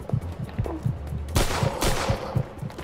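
Gunfire in the Mafia 2 video game: rapid, loud shots in a steady rhythm, swelling midway into a dense, crackling volley before easing back to spaced single reports.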